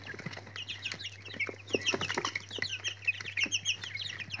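Young quail chicks from a hatching setup peep in rapid, high chirps, many overlapping calls close by over a steady low hum, with soft rustling beneath.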